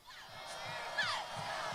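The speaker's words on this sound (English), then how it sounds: "Brunswick cheerleaders have something to cheer about" Crowd of fans and cheerleaders cheering at a high school playoff football game between Brunswick and Whitmer, a distant, diffuse roar with rising shouts and whoops.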